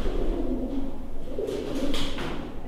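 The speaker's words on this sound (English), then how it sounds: "the ominous calling of what sounds like pigeons somewhere above the explorers" Pigeons coo somewhere above in an abandoned building, low soft rolling calls repeating under a constant hollow room ambience, with a few brighter rustles toward the end.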